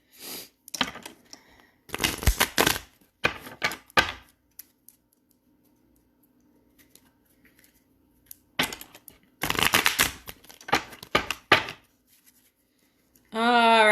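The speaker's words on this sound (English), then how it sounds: "can you hear the cards shuffling?" Bursts of riffling and snapping tarot card shuffles, close and crisp, separated by pauses, with a voice starting at the very end.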